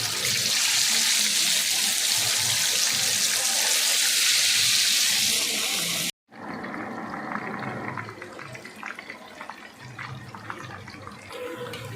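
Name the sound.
marinated hariyali chicken 65 frying in hot oil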